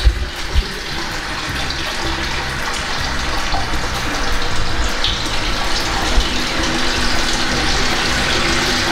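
An electric aquarium cleaner filters water from a fish tank, carrying away fish waste and sediment. The result is a continuous loud rushing, gurgling water flow that runs steadily through the whole stretch with no voices.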